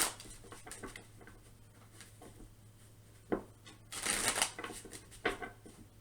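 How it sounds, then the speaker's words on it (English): Tarot cards riffled and shuffled in quick bursts, a soft flutter of paper snapping together, loudest near the end, close by with a faint steady hum underneath. "Sorry to interrupt the middle of the shuffle there"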